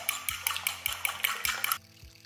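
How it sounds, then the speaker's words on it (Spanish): Eggs beaten by hand in a bowl for a stuffed, extra-large tortilla de patatas, a quick, steady clatter of fork or whisk against the dish that repeats for a couple of seconds and then stops abruptly. "Prepararos para hacer brazo porque vamos a batir todos los huevos"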